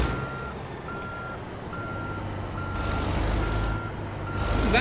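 Truck in American Truck Simulator reversing, a steady rumbling diesel engine under a loud, evenly spaced reversing beep that repeats about every half second, with no talk.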